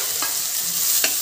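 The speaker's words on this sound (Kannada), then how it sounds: "ಫ್ರೆಂಡ್ಸ್ ಈಗ ಈರುಳ್ಳಿ ಸಣ್ಣದಾಗಿ ಹಚ್ಚಿಟ್ಟಿರೋ ಈರುಳ್ಳಿ ಹಾಕ್ತಾಯಿದ್ದೀನಿ." Finely chopped onion added to hot oil with cumin in a pan, a close, steady sizzle with a couple of brief stirring scrapes, no voices.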